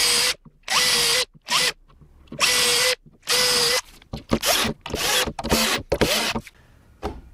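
Power drill driving screws to join parts of a homemade router-table lift, in repeated short bursts of whirring with brief pauses and ratcheting clicks, loud and close.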